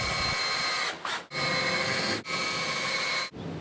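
A power drill driving 3-inch deck screws into a wooden fence panel outdoors: three loud sustained whirring bursts separated by brief pauses, close up and alone without talk.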